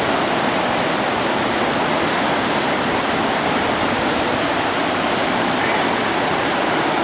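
Rushing water in the Niagara Falls gorge, a loud, constant broadband roar with no pauses, heard alone without talk.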